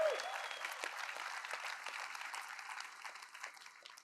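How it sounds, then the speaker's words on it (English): An audience breaks into sustained applause at a live fund-launch conference event, dense clapping starting strong and tapering slightly over four seconds, with no speech over it. "So clap it up for the Fund Launch Marketplace."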